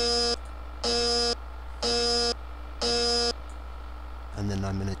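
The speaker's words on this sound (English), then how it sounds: "Now I'm going to turn off EG, the emergency generator. That's going to cause an alarm." Engine room alarm sounding after the emergency generator is shut off in a ship's engine room simulator: four evenly spaced loud electronic buzzer tones, each about half a second, over a steady low hum, followed by a different warbling tone at the end.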